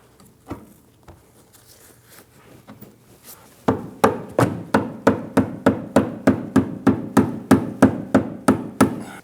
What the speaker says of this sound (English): Using a rubber mallet, we're going to gently tap it into place.